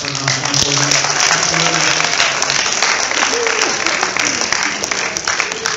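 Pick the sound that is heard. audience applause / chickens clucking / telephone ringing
audience applause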